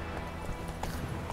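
A horse gallops in The Witcher 3 video game, quick close hoofbeats in a steady clip-clop rhythm over a short burst, with a faint voice underneath.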